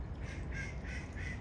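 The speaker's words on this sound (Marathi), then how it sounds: "इकडे बघू शकता तुम्ही बदकं पाण्यामध्ये ना आंघोळ करताना." Ducks bathing in water let out a few repeated quacking calls in quick succession over a steady outdoor background hum, moderately close, with no talking.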